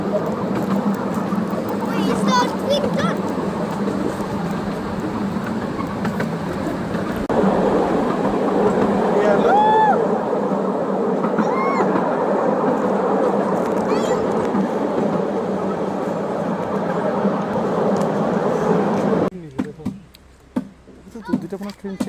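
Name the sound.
train passing at Ruislip Lido railway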